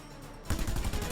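Shotgun fire in a video game: a burst of loud, dense blasts starts abruptly about halfway through, following a quieter lead-in, and continues steadily to the end.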